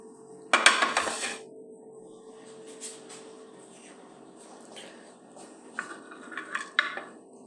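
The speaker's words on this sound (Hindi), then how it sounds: "अब इनको हम काटते हैं।" A knife chops washed green chillies on a board for chilli sauce, with a sharp clatter of taps near the start and a few lighter, scattered cuts later over a faint steady background hum.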